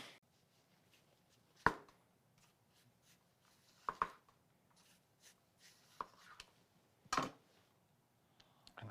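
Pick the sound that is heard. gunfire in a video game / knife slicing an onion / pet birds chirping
knife slicing an onion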